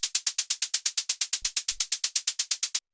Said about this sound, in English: then after that we have the synth hi-hat,